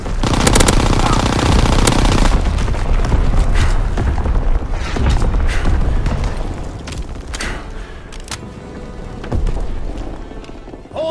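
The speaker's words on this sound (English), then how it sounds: "Incoming enemy artillery, get to cover!" Enemy artillery fire in Gridiron: dense, loud rapid bursts of shots and booms pound almost without pause, thinning a little near the end, with no talking.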